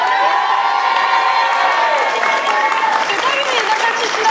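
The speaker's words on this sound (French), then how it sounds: "Et tout le Cateau vous applaudit." A game-show crowd claps and cheers loudly and continuously for a car prize winner, with whoops and children's shouts rising through the dense, sustained applause.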